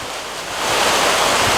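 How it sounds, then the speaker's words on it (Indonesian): Heavy rain pours down over a catfish fishing pond, a dense hiss that starts fairly soft and swells louder and fuller partway through, with no talking. "mulai turun nih hujan besar"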